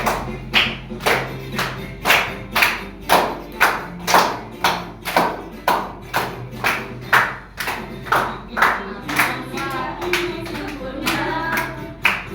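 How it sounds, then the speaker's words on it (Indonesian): Classmates in a classroom clap their hands in a steady rhythmic pattern, about two sharp claps per second, with children's voices chanting along at moments. "Tepuk tangan teman-teman."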